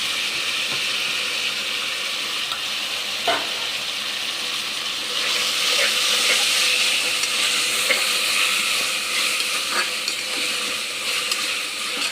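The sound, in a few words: chopped tomatoes frying with ginger garlic paste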